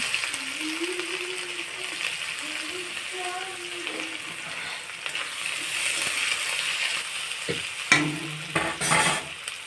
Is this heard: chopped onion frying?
yes